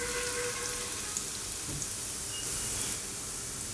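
Crushed spices dropped into warm oil for a garlic pickle, giving a soft, even sizzle that hisses quietly and steadily for a few seconds.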